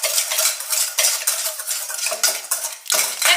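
A utensil scrapes and clinks against a bowl while thyme is mixed into a dry seasoning blend, with a steady run of close, busy scraping and tapping and two sharper knocks near the end.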